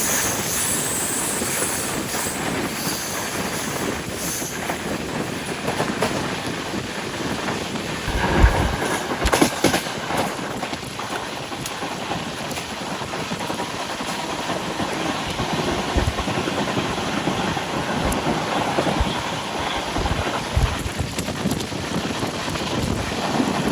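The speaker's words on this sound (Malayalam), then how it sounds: "എല്ലാ ദിവസവും ഡൽഹിയിലേക്ക് പോകുന്ന ഒരു ട്രെയിൻ കൂടിയാണിത്" The Mangala Lakshadweep Superfast Express from Ernakulam to Hazrat Nizamuddin rolls along with a steady, loud rumble of wheels and carriages, wind buffeting the microphone and occasional heavier clunks.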